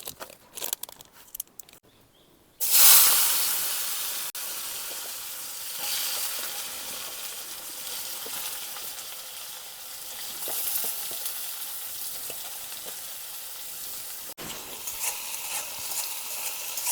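A spinach and potato mix hits hot oil in a pot and bursts into loud, steady sizzling and frying, preceded by a few soft clatters, then crackling on continuously with occasional stirring sounds and no talking.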